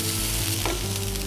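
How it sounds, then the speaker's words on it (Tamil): Sprouted green gram filling sizzles steadily in a hot pan, a close, dense crackle of frying with a faint stir partway through and no voices. "நம்ம இந்த மாதிரி ஃப்ரை பண்ணாக்கா இன்னும் கொஞ்சம் சுவையாக இருக்கும்"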